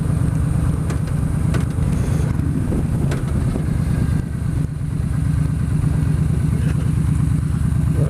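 A Yamaha Stryker motorcycle engine runs steadily on a night ride, a loud continuous low rumble mixed with wind buffeting throughout, with no one talking.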